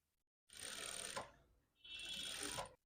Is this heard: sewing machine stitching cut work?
yes